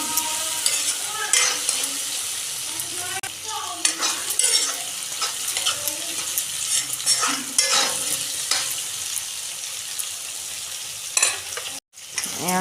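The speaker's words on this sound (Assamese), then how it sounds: "বুটখিনি মই 5 মিনিট ভাজিলোঁ।" Chickpeas fry and sizzle in a pan, the steady hiss overlaid by repeated scraping stirs from a utensil, close and continuous throughout, with a brief drop near the end.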